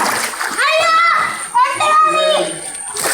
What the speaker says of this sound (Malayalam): അങ്ങെത്തി അവർ നീന്തിക്കൊണ്ട് അതാ ചാടുന്നു